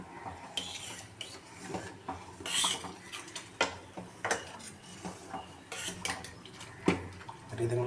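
Metal clatters and clinks close by in a kitchen as a lid goes on a pot of boiling sundakkai kara, sundakkai simmering in a spicy curry, with scattered knocks and scrapes of utensils over a soft bubbling background.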